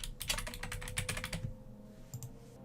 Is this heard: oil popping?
no